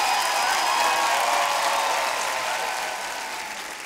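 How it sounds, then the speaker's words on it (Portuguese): Studio audience at a TV talent show, The Voice Portugal blind auditions, breaking into loud, sustained applause that fills the whole stretch and fades slightly toward the end. "Um aplauso enorme para vocês!"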